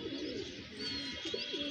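Faint, low cooing from pigeons in a loft, a couple of short rolling calls over steady background noise.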